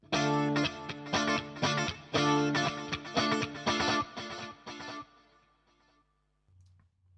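Electric guitar run through a stereo delay, quarter-note repeats on one side and half-note on the other, strummed rhythmic chords for several seconds before echoing tails decay into near silence.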